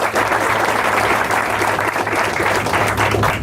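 An audience at a groundbreaking ceremony for a support services and transportation center applauds a city councilman, with dense, steady clapping that holds at an even level throughout.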